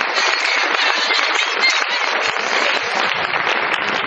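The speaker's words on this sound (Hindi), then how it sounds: "एक बार जोरदार ताली इनके लिए।" Steady, dense applause from an audience at a gathering, loud and continuous with no gaps for the whole stretch.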